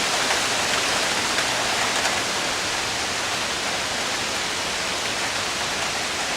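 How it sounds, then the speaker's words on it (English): Torrential rain pours down onto a street during a thunderstorm, a dense, steady roar of hissing water that stays loud and unbroken throughout, with no voices. "It's a real torrential downpour."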